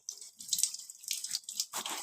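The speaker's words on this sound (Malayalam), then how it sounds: "നമ്മൾ 2 ഡ്രോപ്സ് വെച്ചിട്ടുണ്ട് വാട്ടർ" A couple of water drops fall close by, producing short, soft wet taps over about two seconds.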